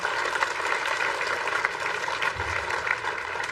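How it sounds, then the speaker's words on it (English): Sustained, dense audience applause at a university ceremony marking a partnership between SRMU and L&T Edutech, a steady wash of clapping at moderate distance with no voices over it. "Give a huge round of applause to ma'am."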